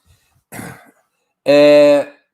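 Two coughs close to the mic: a short rough burst followed by a louder, longer, strained cough with a raspy, voiced tone.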